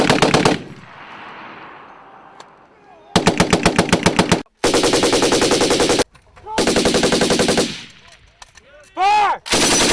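Live-fire exercise with US military machine guns: loud, close bursts of rapid automatic fire in several long strings separated by short pauses, with a few single reports and distant booms in between.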